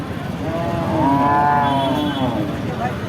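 A Sahiwal dairy cow lets out one long, loud moo close by at a cattle market in Jessore, rising and falling over a couple of seconds amid background crowd noise.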